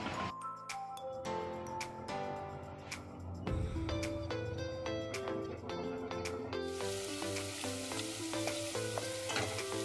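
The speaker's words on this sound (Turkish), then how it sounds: "Kahvaltıya da turşu kavuracağım. Şöyle lahana turşusu." Sauerkraut pickles fry in a pan for breakfast, a steady close sizzle with scraping stirs, accompanied by loud music throughout.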